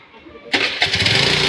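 An engine cranks and catches about half a second in, then runs with a loud, rough, pulsing idle, following a moment of quiet murmuring.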